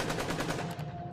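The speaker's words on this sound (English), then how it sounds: "Gunshots interrupted their thoughts, and panic set in." Rapid gunfire crackles in a dense, continuous burst like a machine gun during a protest confronted by soldiers, loud and close with no pause between shots.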